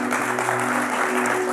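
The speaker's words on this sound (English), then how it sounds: "Give him an applause." A church congregation applauds in a steady, dense wash of clapping, the sound unbroken and loud throughout, with a low steady hum beneath.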